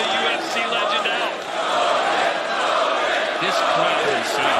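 A packed boxing arena crowd at a Misfits Boxing event roars continuously, a loud, dense wash of cheering and shouting that swells and holds, with voices and a commentator faintly mixed in.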